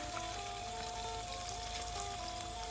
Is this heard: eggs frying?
yes